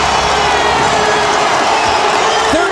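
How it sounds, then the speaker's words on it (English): Basketball arena crowd at an NBA game between the Phoenix Suns and Boston Celtics, a loud sustained roar of cheering and shouting filling the space throughout. "this crowd who booed mercifully before the half, they're into it now"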